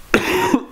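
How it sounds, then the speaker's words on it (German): A single sharp, loud cough from a person with an irritated throat, close to the microphone and with no speech around it. "Ich habe die ganze Zeit Hustenreiz."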